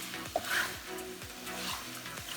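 Chicken curry sizzles in a pan as coriander powder is stirred in, with a steady frying hiss and a few soft scraping strokes close by.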